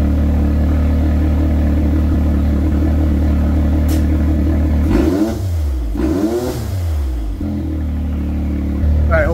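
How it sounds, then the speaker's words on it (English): A Can-Am X3 side-by-side engine idles with a loud, close rumble, then is revved twice in quick succession, with pitch sweeping up and falling back before settling to idle again. "I'm going to fire it up, and I'll give you a couple revs,"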